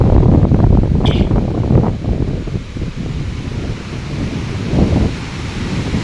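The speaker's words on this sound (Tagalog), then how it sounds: "sobrang pagkalakas po ng alon." Strong waves crash against a shoreline in heavy wind during a low-pressure weather system, beside a plant under construction on the coast. A loud, constant roar of surf and wind buffeting fills the scene, with a few surges and no talking.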